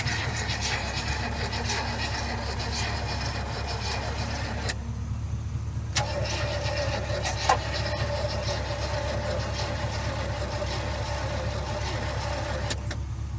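The starter of a 1972 GMC truck, idle for over thirty years, cranks continuously with a steady low pulsing churn, failing to catch, with a brief pause partway through and small clicks.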